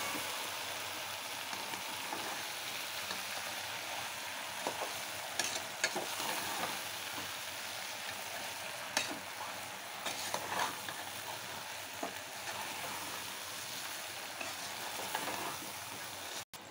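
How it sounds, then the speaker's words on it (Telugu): Chicken pasta with masala and noodle masala being stirred in a frying pan: soft, continuous scraping and light sizzling with occasional sharper utensil knocks, quiet and close, with no talking. "పాస్తా వేసిన తర్వాత బాగా కలుపుకోవాలి. ఆ మసాలాలన్నీ పాస్తాకి పట్టే వరకు."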